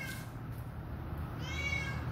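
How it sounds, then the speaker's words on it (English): A cat meows from up in a house attic, faint and distant, with a few drawn-out cries near the end over a steady low background hum. "The cat is up in the fucking attic."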